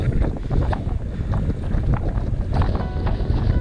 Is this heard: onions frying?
no